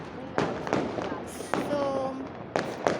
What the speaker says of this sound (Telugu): మేమైతే బాంబులు కాలుస్తున్నాం అనమాట, స్కై షాట్స్ ప్లస్ రాకెట్స్